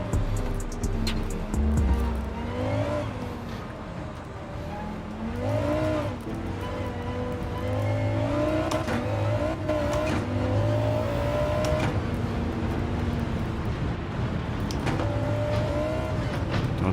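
Race car engine in the Gran Turismo 7 video game on PS4 Pro, a loud steady drone that rises and falls through gear shifts and revs during a lap on an unfamiliar track, with no talk over it.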